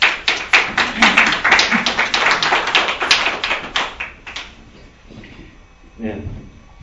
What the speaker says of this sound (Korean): 박수로 환영했습니다.